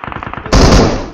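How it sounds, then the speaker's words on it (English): Gunfire in the mobile battle game BGMI. A quick string of light, rapid shots is followed by one loud, heavy shotgun blast with a booming tail. "Shotgun."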